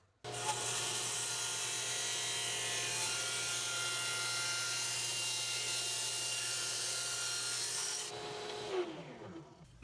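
Table saw cutting a small triangular piece of wood for a miter angle shooting board, a loud continuous whine and rasp held for about eight seconds before spinning down, with no talking.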